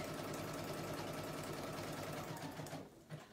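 A sewing machine stitches along the outside edge of appliqué fabric, a faint, steady motor hum and needle rattle that tapers off just before the end.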